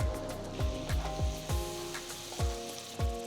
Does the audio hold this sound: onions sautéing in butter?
yes